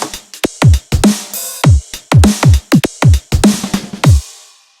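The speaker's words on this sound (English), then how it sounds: "we're going to be using some heavy drums and it's probably going to sound something like this" A heavy Neurohop drum pattern with swing groove: punchy, booming kicks with pitch-dropping tails and crisp snares in a loud, syncopated loop lasting a few bars, with no one speaking.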